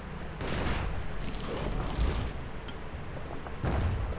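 Enemy gunfire in the action video game Bastion, a few booming shots and blasts spaced through the stretch, fairly quiet with rumbling low-end impacts and no talk over them.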